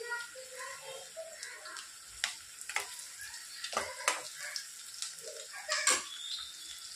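Onions fry in a pan with soft intermittent sizzling and scraping stirs, quiet and close, with sharper clatters from a utensil now and then and no voices.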